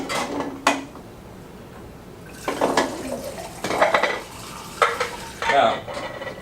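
Film developer being stirred in jugs for hand processing black-and-white film, with intermittent scraping and sloshing strokes against the containers, some louder bursts, close by.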